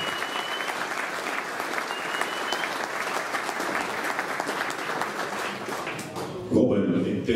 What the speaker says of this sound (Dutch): En ik wil graag een applaus voor Robin Krukhoff.